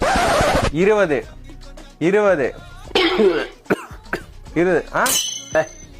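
Several harsh, close coughs in short bursts, mixed with throat clearing and some speech between them.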